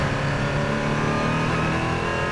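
An LMP3 prototype race car runs the Nordschleife, its engine a loud, continuous mid-pitched drone that holds steady throughout with no voices over it.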